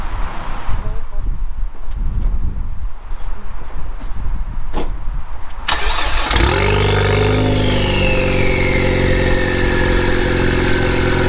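A Ford Focus ST engine cranks and fires up, settling into a loud close rumble with rising revs as the car pulls in, after quieter handling noises.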